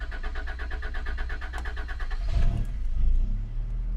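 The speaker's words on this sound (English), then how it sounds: "we shall set about the important business of starting the engine" A 1989 Honda Accord Aerodeck's engine is hot-started: a rhythmic starter-motor cranking for about two seconds, then the engine catches and settles into a louder, steady low rumble.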